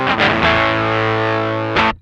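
An electric guitar through a BOSS FZ-1W fuzz pedal with the fuzz knob turned up rings out a thick, saturated sustained chord, picked twice with a brief restrike near the end before cutting off abruptly.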